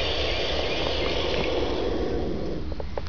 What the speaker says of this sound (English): That is the sound of baby vultures.